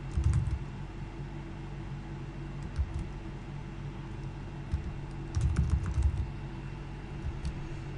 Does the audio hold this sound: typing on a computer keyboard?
yes